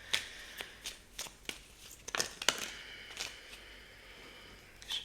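Oracle cards being shuffled by hand nearby, a quiet run of crisp riffling and flicking bursts in uneven rhythm, with no voices.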